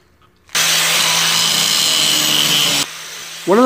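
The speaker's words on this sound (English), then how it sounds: "So I ended up just screwing it in place," A power drill drives a screw into a wooden board for a homemade book press, a loud steady whir lasting about two seconds, then a quieter lower hum before a short rising whine at the end.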